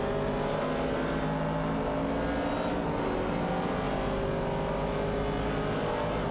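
A Ford Mustang Boss engine from a racing video game drones at sustained high revs alongside other race cars, a dense, steady engine roar with no voices.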